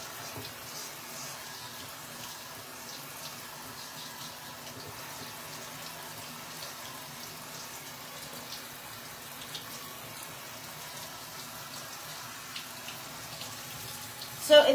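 Water runs in a steady, quiet stream as ink is rinsed out of an Ikonart stencil, with a faint soft splash that carries on without a break.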